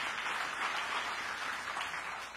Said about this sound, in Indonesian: Yang percaya tepuk tangan yang meriah bagi Tuhan ini.